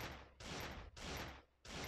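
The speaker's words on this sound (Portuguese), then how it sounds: "Vou tá atirando aqui pra ele saber que eu tô aqui" Gunfire in the Free Fire mobile battle royale, with three loud bursts that each cut off sharply, separated by brief near-silent gaps.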